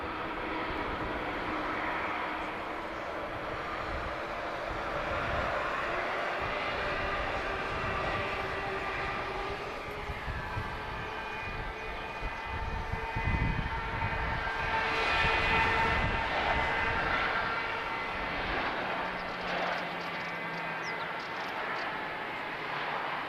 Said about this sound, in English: here we go, 737 arrival.